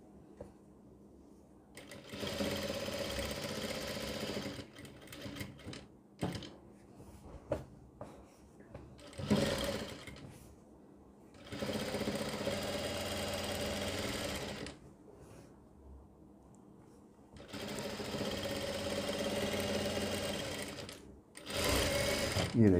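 A sewing machine stitches fabric while a front neck design is sewn in a boutique, running in several loud, steady bursts of rapid mechanical whirring with short pauses and small handling clicks between them.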